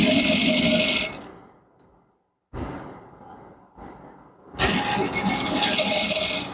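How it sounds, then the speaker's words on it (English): A sewing machine stitches down a trouser waistband folded at half an inch, running in loud bursts at the start and end with a quieter, softer stretch of handling noise between, no talking. "So stitch it all down. Sew it all down till the very end."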